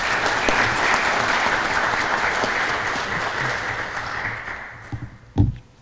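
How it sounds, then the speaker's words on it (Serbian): A seated audience at a book promotion event applauds loudly and continuously for several seconds, then the clapping thins and fades, ending with a single heavy thump close by. "molim vas da njega nagradite jednim aplauzom"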